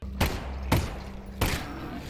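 Three heavy gunshots from the VR game Half-Life: Alyx boom out at uneven intervals, each a loud, sharp blast with a short decaying tail over a low background hum.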